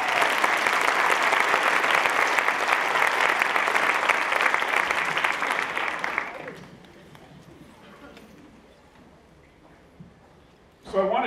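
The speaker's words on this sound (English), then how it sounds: "So give yourselves a huge round of applause for being here." A large audience applauds loudly and steadily at a high school drug presentation for about six seconds, then the clapping fades quickly to a quiet room with a few scattered claps and a short burst near the end.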